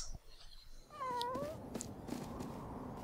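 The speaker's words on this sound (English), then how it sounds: "Let's carry that big cat" A cat in the Tokyo Jungle video game gives one drawn-out, wavering meow near the middle, set against steady game background ambience.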